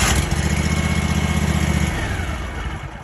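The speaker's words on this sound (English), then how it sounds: "You just turn your starter to the middle position there, wait a second, and then start her up." A 72-inch Wright Stander ZK commercial stand-on mower with an EFI Vanguard engine runs at a steady, loud idle with no other sounds, easing slightly toward the end.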